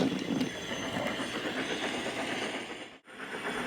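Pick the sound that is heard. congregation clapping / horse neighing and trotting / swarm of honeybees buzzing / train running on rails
train running on rails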